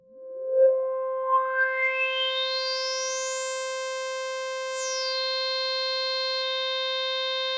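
An Arturia SQ80 V software synthesizer with filter resonance at full gives a loud tone whose whistling resonant peak sweeps steeply upward to a piercing high squeal, then drops back and holds a steady bright buzzing tone.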